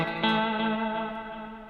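Electric guitar played through the Savage effects patch, a sustained chord ringing with heavy chorus, distortion and echo, struck once near the start and decaying alone.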